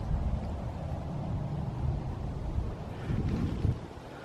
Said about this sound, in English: It was just the wind though.